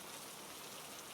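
Rain falls at night as a steady, dense hiss of drops with no gaps, soft and even throughout the short stretch, and no one talks.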